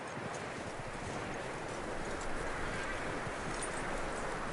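Steady clip-clop of horse hooves in Red Dead Redemption 2 over a dense outdoor ambience, continuous and moderately loud throughout, with no clear snort standing out.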